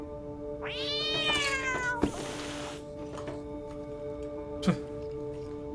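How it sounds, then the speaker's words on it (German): A cat meows repeatedly in the video game Stray, a long rising and falling cry followed by a harsh, breathy call and a brief soft chirp, close and clear over a quiet ambient tone. "Unsere Katze wieder mal."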